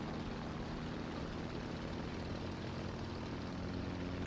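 Propeller airplane droning overhead in the War Thunder tank game, a steady broadband engine roar with a low hum that holds throughout, no talk.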